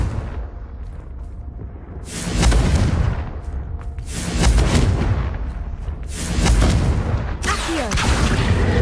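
Confringo blasting spell fired in the video game Hogwarts Legacy, three loud booming explosions in steady succession, each a broad roaring burst lasting over a second, with a quieter rumbling bed between them.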